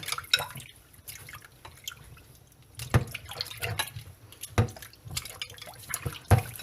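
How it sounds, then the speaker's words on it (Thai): Fresh mackerel are rinsed in salt water in a home kitchen, with soft sloshing, drips and small splashes of handled fish in a basin, close and unhurried, with no talk. "แล้วเราก็ล้างนะคะ ล้างน้ำเกลือ"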